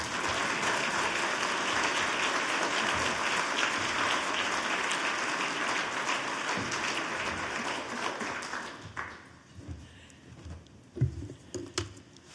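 Conference audience applauding to welcome a keynote speaker at a firearm injury prevention event, a dense steady roar of clapping for about eight seconds that thins into scattered claps and fades.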